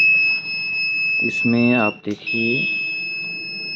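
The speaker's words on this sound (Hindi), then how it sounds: "और ये कंटिन्यू बीप मार रहा है।" A Microtek XP1400 UPS gives out steady, continuous high-pitched beeping right after its battery is connected, and the tone keeps going under someone speaking close by.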